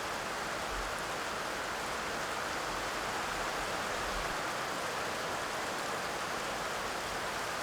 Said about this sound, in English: And the rain soon arrives.